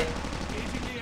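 Gunfire from another player in Call of Duty Mobile crackles in a quick string of rapid shots, moderately loud, with a voice audible alongside.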